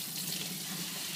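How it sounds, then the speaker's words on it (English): Water runs from a faucet as an aquarium plant is rinsed under it, a steady close hiss and splash that continues evenly throughout, with no voices. "you just bring the plant to the water and rinse as much as you can."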